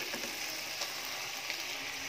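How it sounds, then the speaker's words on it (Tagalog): Ground chicken breast sautés in a pan with a steady, even sizzle and faint scattered crackles throughout, close and continuous with no voices. "After 20 seconds, lagay na natin itong chicken breast na giniling."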